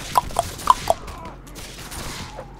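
Several sharp musket shots in the video game Mount and Blade, four quick cracks within the first second followed by faint mechanical clatter, fairly quiet and close.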